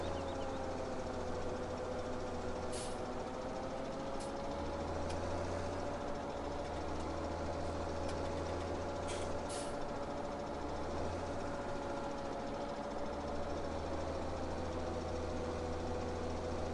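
Tractor engine in the video game Farming Simulator 17, a steady droning hum with a constant tonal whine and a pulsing low throb, close and continuous with no talk.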